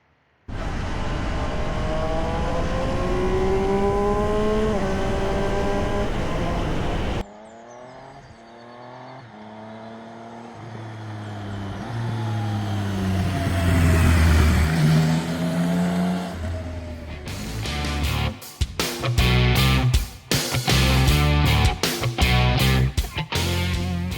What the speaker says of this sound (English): This bike is absolutely ideal for filtering, whizzing in and out of traffic.